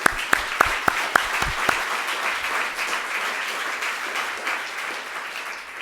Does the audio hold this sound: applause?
yes